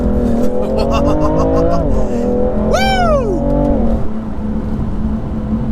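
A 2018 BMW M3 Competition drives hard, its engine droning steadily up close with a rising whine and a brief sweeping squeal midway, while someone talks over it.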